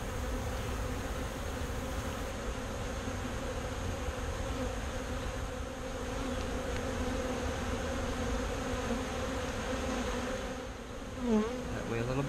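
Honeybees hum in a steady, dense drone around an open top bar hive during a summer inspection, the buzzing close and continuous with faint shifts in intensity.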